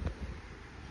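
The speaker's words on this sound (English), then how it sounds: "it's really windy" Wind buffets a phone microphone outdoors, a brief rumbling low roar with gusty thumps at the start, then a steadier breathy rush.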